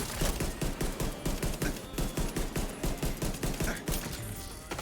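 Rapid pistol gunfire in The Division 2 video game, a dense run of sharp shots repeating in quick rhythm throughout, loud and close with no talk.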